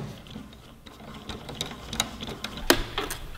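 A T-handle wrench loosens the 10 mm rear tank bolts on a Kawasaki Ninja 400, a series of close, light ratcheting clicks and metallic ticks that grow sharper toward the end over a low background hum.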